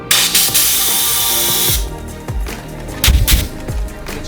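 A loud, hissing spray of water blasts continuously for under two seconds, then stops, followed by scattered knocks and handling clatter.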